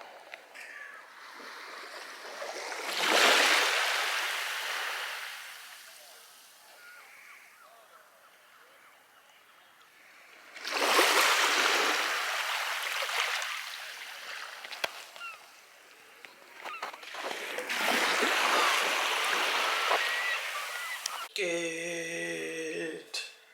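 Sea waves rolling in at a beach, three broad swelling washes of surf that rise and fade in turn, fairly close, with a brief tonal sound at the very end.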